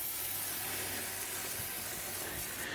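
A spray bottle mists oil onto concrete form boards in a continuous close, soft hiss that holds steady throughout before stopping abruptly at the very end.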